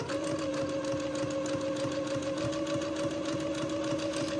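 Sewing machine zigzag stitching a fabric edge onto an entredeau ladder, a steady continuous mechanical whir with fast rhythmic needle pulses, close and moderately loud throughout with no talking.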